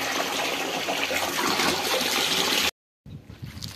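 Water from a small motor pump gushes and splashes in a steady rush, cuts out abruptly for a moment, then resumes more quietly.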